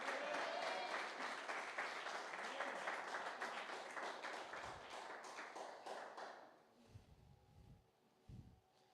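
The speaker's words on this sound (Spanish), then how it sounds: "¿Y de qué aplauden?" A church congregation applauds in a dense, loud burst that fades out over several seconds, leaving a few low thumps and quiet room tone.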